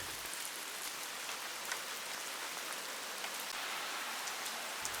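Heavy rain pours down in a dense, steady hiss with scattered droplet patter amid traffic in Japan's Kyoto-Nara area, continuous throughout with no voices.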